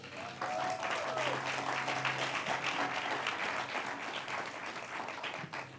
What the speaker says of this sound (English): Will you raise your hand and clap a little bit